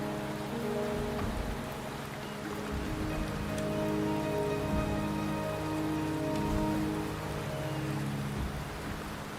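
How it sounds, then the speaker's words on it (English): Steady rain falls continuously on surfaces outdoors, a dense even hiss with patter throughout and a faint low rumble beneath, no voices. "The rain is subsiding, and the sky will soon clear."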